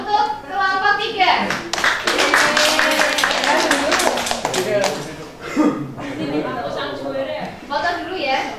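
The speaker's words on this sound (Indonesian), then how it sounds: "tepuk tangan untuk kelompok 3" A classroom full of students claps for a group during a microteaching mathematics lesson, a dense burst of hand claps swelling then thinning over several seconds, with children's voices and chatter mixed in.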